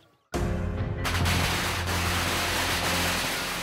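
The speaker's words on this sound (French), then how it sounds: "Le bruit des pétards effraie lui aussi les esprits." At a dragon boat race in China, firecrackers erupt suddenly after a brief quiet, becoming a dense, continuous crackling barrage that stays loud and close throughout.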